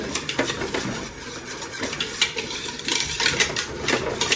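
Dough for chicken-filled icli köfte is whisked hard and fast in a pan, making a quick, steady run of scraping, clattering taps, fairly close and with no talk.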